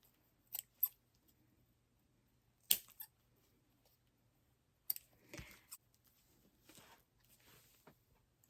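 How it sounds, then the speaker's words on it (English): Scissors snipping small loose fabric threads while making handmade fabric Christmas candy decorations, a few quiet separate clicks spread out over several seconds, close by with near silence in between. "Let's cut these little strings."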